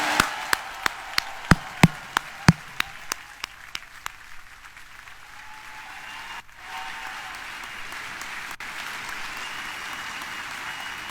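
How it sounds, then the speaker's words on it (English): Crowd applause for the crew of Royal Caribbean's Harmony of the Seas at its naming ceremony, opening with a series of loud sharp claps that give way to a softer, steady background of distant clapping. "a round of applause"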